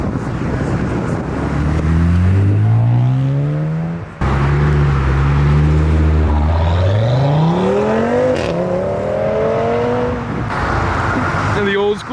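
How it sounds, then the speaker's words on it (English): Loud modified cars leave a car meet as an old-school Ferrari pulls in. Close engines rev and roar in long rising and falling sweeps, with a brief dip midway and wind buffeting the microphone. "And the old school Ferrari pulling in."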